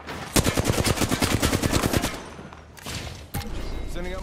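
Rapid automatic gunfire in the video game Apex Legends, a fast burst of loud, close shots for about two seconds, followed by a few scattered single shots and a rising electronic whine.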